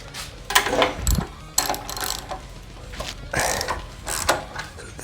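A ratchet wrench works on the rear shock bolts of a 2010 Harley-Davidson Dyna Wide Glide, sounding as close, irregular bursts of rapid clicking separated by short pauses and a few metallic knocks.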